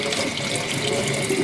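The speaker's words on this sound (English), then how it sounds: "I don't want to run the water for too long" Water runs steadily from a tap into a sink during handwashing, a constant close hiss and splash that holds at the same loudness for the whole stretch with no voices over it.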